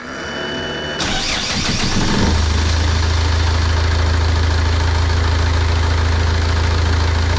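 A sailboat's engine turns over and catches, then settles into a loud, steady, close idle with a deep, continuous rumble.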